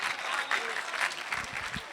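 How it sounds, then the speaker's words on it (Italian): An audience at a conference session in Cagliari gives steady, dense applause, loud and continuous, with a few voices faintly mixed in. "Un applauso."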